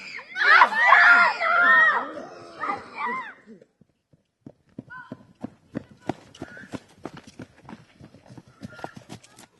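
A horse's hooves clip-clop in an uneven trot on firm ground, coming as a run of sharp close knocks after a stretch of loud people talking at the start.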